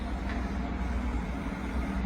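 Buses idling and rumbling at Burnley bus station, a continuous loud low engine drone with traffic noise throughout and no talking.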